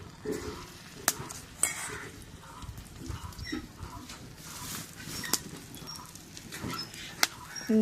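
Crushed garlic frying in mustard oil for a shati fish and kochur mukhi dal, with a low crackle and repeated scraping, clinking stirs of a utensil against the pan, close and moderately quiet.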